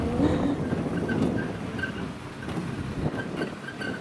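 A car pulls up on a local island in the Maldives to collect passengers, its engine a low, continuous rumble close by, with faint background noise and no talking.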